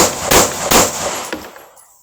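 Two sharp gunshots from a Smith & Wesson M&P 2.0 pistol fired at a range, close and loud, with a fainter third report trailing off as the echo fades.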